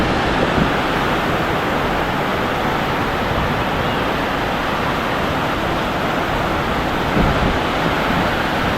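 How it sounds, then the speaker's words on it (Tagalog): A heavy downpour pours down in a sudden burst outdoors, a dense, loud, steady roar of rain that fills the whole stretch with no voices. "Lakas ng ulan."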